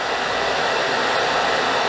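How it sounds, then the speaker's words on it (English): A blow dryer runs continuously at close range on freshly cut A-line hair, giving a loud, steady rushing whoosh with no pauses. "Heat it up, put my blow dryer underneath it, bring it to the center"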